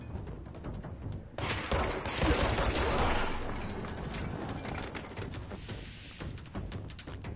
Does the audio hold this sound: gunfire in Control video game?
yes